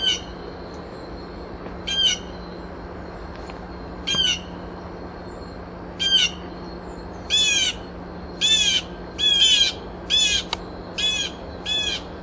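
Wild birds call repeatedly near a spot where they feed on callery pears in December, sharp squawking bursts arriving in irregular clusters over a low steady hum, with no talking.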